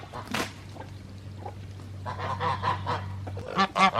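Geese honk in a farmyard, several short loud calls bunched near the end over a steady low hum, with a faint honk or two earlier.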